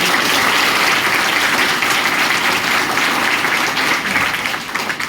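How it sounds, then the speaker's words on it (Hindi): A crowd claps loudly and steadily for several seconds at a girls' middle school bicycle distribution event in India, the applause tapering off slightly near the end. "आप सभी मम्मी पापा के सम्मान में एक बार जोरदार ताली"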